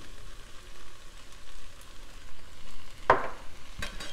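Spices fry in a pan for a red onion sauce, giving a soft steady sizzle, with a sharp scrape of stirring near the end.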